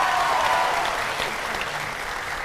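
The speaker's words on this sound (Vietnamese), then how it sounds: "Vỗ tay lớn lên quý vị." Audience at a live comedy dating show on stage bursts into loud, continuous applause, a dense wash of clapping that eases slightly toward the end.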